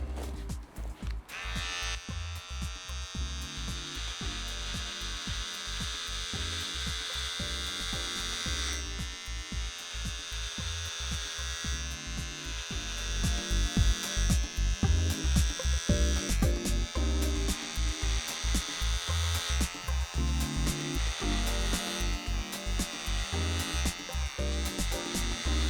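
Electric beard clipper buzzing steadily and close while trimming a beard, a continuous whine that grows slightly louder partway through, with no talking.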